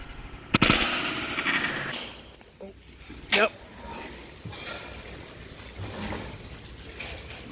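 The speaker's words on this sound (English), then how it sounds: "Gonna have to shoot him again." An air rifle fires lead-free pellets at pigeons during a hunt, giving a sharp close shot near the start and a second crack a few seconds later. Rustling outdoor noise continues in between, and there is no clear talk.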